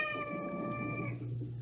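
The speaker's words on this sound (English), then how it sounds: "There goes that cat again." A cat meows once indoors in a 1976 television drama, a drawn-out harmonic cry lasting about a second over a low background hum, heard alone without talk.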